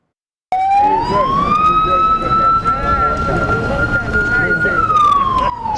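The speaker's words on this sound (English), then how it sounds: "Sirens blaring at full amplitude, alerting residents of this community" A loud warning siren for dam spillage starts abruptly and holds a rising, sustained wail, blaring close by and continuously for several seconds.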